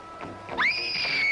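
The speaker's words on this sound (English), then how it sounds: "I'd scream." A girl's short, high-pitched scream rises sharply and holds for under a second, clear and fairly close, following a few faint murmured sounds.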